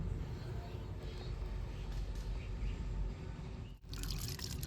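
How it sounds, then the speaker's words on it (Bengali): Antiseptic liquid poured through a funnel into a bottle: a steady, soft trickle and gurgle runs close by at low volume, ending with a short pause and a brighter splash. "কাঁপার সাহায্যে কত সুন্দরভাবে বোতলটা ভরছি"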